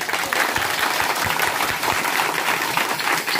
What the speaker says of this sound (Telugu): మరి నాకు చప్పట్లు కొట్టరే.